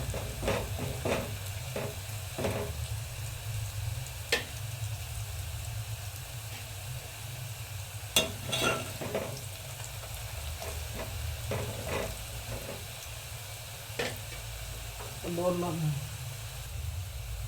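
Veg biryani ingredients frying and being stirred in a pan until they turn brown, a steady sizzle with repeated scraping clinks of a spoon, a voice talking alongside.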